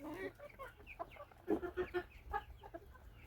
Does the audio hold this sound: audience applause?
no